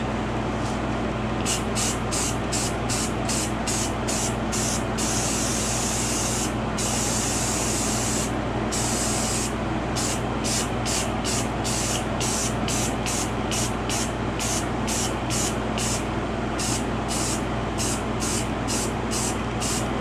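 Spray paint hisses onto a 3D-printed Thanos gauntlet in a long run of short, rhythmic bursts with brief gaps, close and steady, with no voices.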